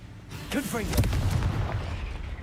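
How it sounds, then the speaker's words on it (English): A Confringo fire blast spell from Hogwarts Legacy erupts as a single booming burst with a crackling, rumbling tail that fades over a couple of seconds. "Confringo."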